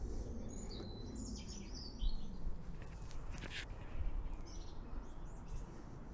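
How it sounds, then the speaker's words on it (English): Birds chirping outdoors near budding oak trees, recorded on a GoPro Hero 4 Silver with an external microphone, with scattered high calls over a steady bed of low wind and ambient rumble, fairly faint and distant, no talking. "birds singing, etc."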